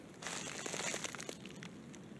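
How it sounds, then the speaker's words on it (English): An evergreen tree branch is twisted off by hand, giving a brief close, quiet crinkling and crackling of needles and twigs for about a second. "Okay, so I twisted that off and it came off pretty easily."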